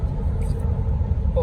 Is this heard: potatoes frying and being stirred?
no